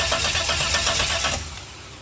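A V6 turbo drag car engine cranks and catches, a dense loud churning roar that pulses rhythmically before dropping to a lower, steadier rumble, heard close with no talk.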